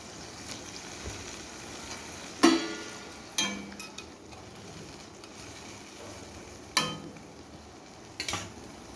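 Pieces of small rohu-type fish go into a hot pan of home-style fish curry with ridge gourd and potato, giving a few sharp clattering sizzles and splashes at intervals over a low steady background.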